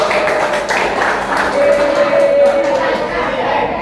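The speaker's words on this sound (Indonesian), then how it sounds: "tepuk tangan semuanya" A group of students in a physical education class claps their hands together in a steady, dense patter that carries on across the whole moment, with a teacher's voice speaking over it.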